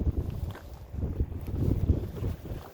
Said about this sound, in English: The old east wind's back again today.